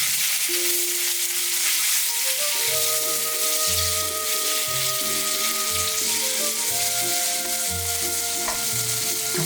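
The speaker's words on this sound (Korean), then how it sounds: "두부를 넣고 튀기듯이 볶아주세요" Tofu cut into 1 cm strips stir-frying in plenty of oil in a pan over high heat, a steady close sizzle and crackle with occasional scrapes of stirring, no voices.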